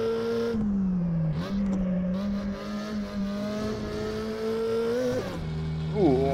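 A Porsche 356 Coupé engine revs hard and climbs through the gears, its pitch rising steadily then dropping at a shift before surging again.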